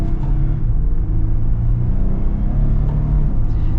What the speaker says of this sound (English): now let's get our acceleration here at the Wrangler